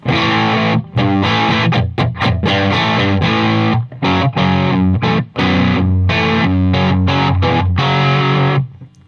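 Distorted electric guitar on the bridge pickup with volume rolled back, through a Fet Driver and Giggity pedal into a single-channel amp, plays a punchy, chugging rhythm part with short choppy chords and brief stops, loud and close.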